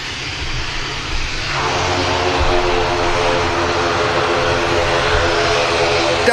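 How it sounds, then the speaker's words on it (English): A roughly 50-year-old Beech propeller aircraft passes over Manchester Airport, its steady engine drone swelling after the first second and holding loud and close, with a rough throbbing hum to the end. "nice aircraft coming over here as well now. This beach, almost 50-year-old beach aircraft"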